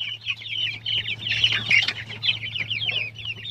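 Chicks in a brooder peep continuously in dense, high chirping bursts, with a steady low hum underneath and no talking.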